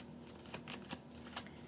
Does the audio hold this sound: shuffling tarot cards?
yes